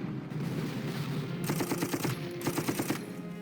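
A unit takes a shot in the WWII turn-based strategy game Panzer Corps, heard as two brief bursts of rapid, rattling gunfire over a low, steady background hum.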